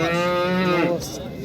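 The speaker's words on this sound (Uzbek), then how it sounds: "Bu chiroyli sigir ekan." A cow lows with a long, loud harmonic moo at a busy cattle market in Andijan, followed by a brief burst of crowd noise as people talk nearby.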